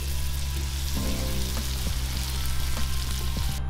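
Sofrito for Cuban black beans, with a touch of tomato, sizzles steadily in a pan with a dense, even crackle and scattered small pops, close and continuous with no voices.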